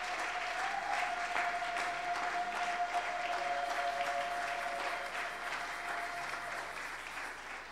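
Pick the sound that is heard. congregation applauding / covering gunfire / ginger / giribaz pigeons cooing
congregation applauding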